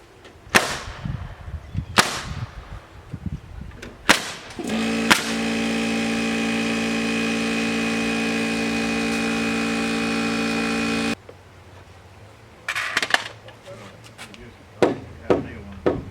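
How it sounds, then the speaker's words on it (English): Sharp, spaced hammer blows strike wooden wall framing on a shed build, broken up by a long, loud engine-like drone before a few more knocks follow. "I'm gonna need my hammer."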